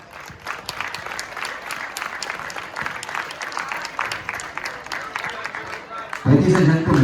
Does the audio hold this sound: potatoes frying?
no